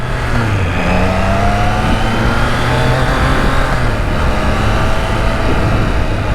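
A 2021 Triumph Trident 660 motorcycle engine pulls steadily while being ridden on Sydney streets, a loud continuous drone with rising and shifting engine tones throughout and no talking.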